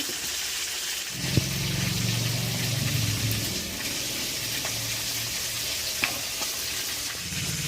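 Fish pieces fry in a pan in a home village kitchen as they are browned on both sides, giving a steady, loud sizzling hiss with an occasional light clink of utensils.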